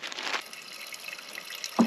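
Water runs into a cooking pot ahead of boiling Indomie instant noodles, a soft continuous splashing pour with brief louder gushes at the start and end, alone with no talking.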